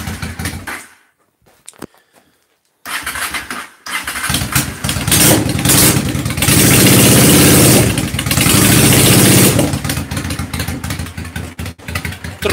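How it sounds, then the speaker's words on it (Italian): A cold motorcycle engine cranks and fires, sputters out, then starts again and settles into a loud, uneven, lumpy idle with occasional revs, close by. "faccio sentire il minimo trotteggiante"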